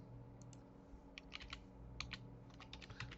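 Typing on a computer keyboard, a few quick bursts of light key clicks separated by short pauses, faint and close, with a low steady background hum.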